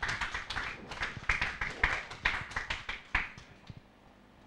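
A church congregation claps along in a steady, rhythmic beat of sharp, fairly close handclaps that stops abruptly near the end, with no voices over it.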